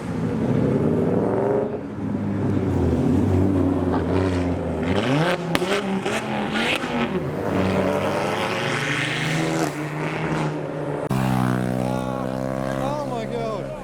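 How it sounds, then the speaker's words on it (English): A Ford Focus RS pulling out of a busy car meet, its engine note rising and falling through gear changes close by, with other car engines and crowd voices mixed in. "We've got the Focus RS leaving."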